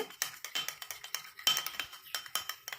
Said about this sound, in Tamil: இப்போ இது 3ஐயுமே நல்லா வந்து கலந்து விட்டுக்கணும்